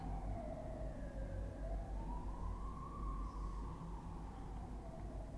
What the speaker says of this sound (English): Okay, now we have all kinds of sirens.